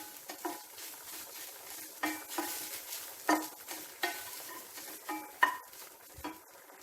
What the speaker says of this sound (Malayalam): ഇനി ഇത് നല്ലതുപോലെ ഒന്ന് മിക്സ് ചെയ്ത് കൊടുക്കാം. നല്ലതുപോലെ ഒന്ന് വറുത്തെടുക്കണം.